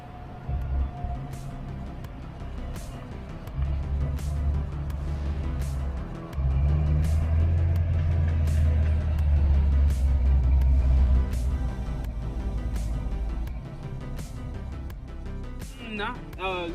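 A 5.0 Fox body Mustang coupe under way on the road, its steady low engine drone rumbling inside the cabin and swelling in the middle before easing off.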